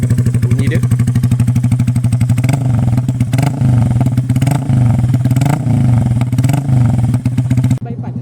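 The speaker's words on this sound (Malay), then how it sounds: "So ini engine standard, bunyi dia." A stock-engine Yamaha EZ115 motorcycle idles and revs up close, its single-cylinder exhaust thumping in a rapid loud pulse with repeated throttle blips and a brief drop near the end.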